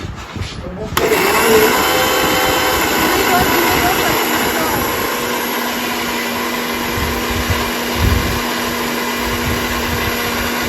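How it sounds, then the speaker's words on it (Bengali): A mixer grinder blending raw mango starts abruptly and runs for about ten seconds as a loud, steady, high-pitched whine with a constant motor hum, briefly straining near the end. "আমি মিক্সার ঘোরাচ্ছি"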